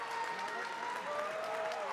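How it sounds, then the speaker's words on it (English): A packed gym crowd at a girls high school basketball playoff game, Pierre against Harrisburg, cheers and applauds steadily after a three-pointer ends the third quarter, a dense, continuous roar of clapping and shouting. "this crowd is electric"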